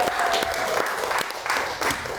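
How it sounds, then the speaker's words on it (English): Audience applause in a studio setting, a steady wash of clapping from a crowd that holds at an even level from start to finish, with a few louder claps standing out. "So one more round of applause for Joel."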